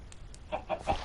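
A Minecraft chicken gives a few quick, soft clucks in a short run, faint and close with no talking.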